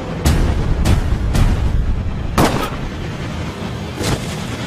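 Gunfire in an action movie trailer, with about five loud, sharp shots spaced irregularly with booming low-end impacts and short decays, without speech.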